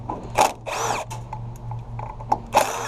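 An impact gun works on a scrap metal part at a scrap yard, giving several short, loud bursts of whirring and hammering separated by quieter mechanical clatter over a steady low hum.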